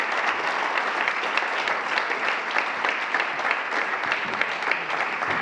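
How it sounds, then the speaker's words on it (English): An audience applauds authors called on stage at a Geneva policy publication launch, a steady, even wash of clapping that holds at a constant level throughout, with no voices over it. "perhaps already an applause for our first authors"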